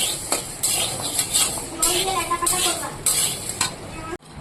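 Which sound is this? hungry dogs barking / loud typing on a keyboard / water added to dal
water added to dal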